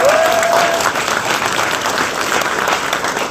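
An audience at a Democratic Party political event in Daegu-Gyeongbuk claps loudly and steadily, a dense wash of applause from a large indoor crowd filling the whole moment.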